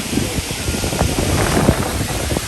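Strong wind at Khor Fakkan Beach buffets the microphone with rough, gusty rumbling, mixed with a steady roar that suggests nearby surf. No one speaks.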